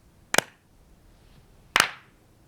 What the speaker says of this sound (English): I want to find a clap sample